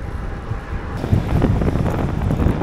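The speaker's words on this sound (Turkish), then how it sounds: "Ciddi bir rüzgar var." Strong wind buffets the microphone during a road cycling ride near Antalya in a steady low roar that grows rougher and louder partway through, with no voices.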